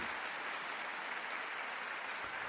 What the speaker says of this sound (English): Air horns and applause.